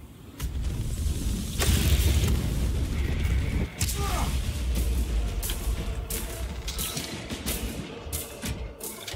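Loud, rumbling explosions from a detonated charge in Warhammer 40K: Space Marine 2 fill the mix, with bursts of crackling and several sharp pops toward the end over a continuous low roar.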